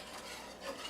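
A whisk stirs marinara sauce in a pot, giving a quiet, continuous swishing and bubbling with faint scrapes against the metal.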